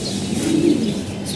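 Red-eyed pigeons coo close by in a brief, soft, throaty murmur over low background noise, with no talking.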